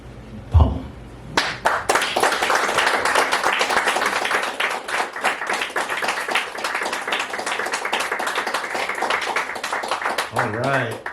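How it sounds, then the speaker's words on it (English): An audience at a poetry reading in the Rialto Theatre applauds, a sustained wash of dense clapping that swells in after a brief pause and carries steadily to the end, with a voice speaking briefly near the close. "I know you just stopped clapping"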